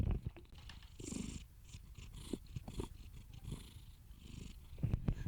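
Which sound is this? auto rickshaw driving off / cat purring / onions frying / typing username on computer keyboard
cat purring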